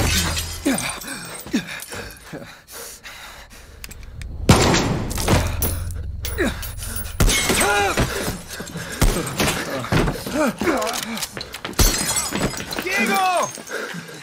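Gunfire erupts in Far Cry 6 amid a tense firefight: loud repeated shots and bursts with crashing, shattering impacts, heard under frequent shouted voices and dialogue.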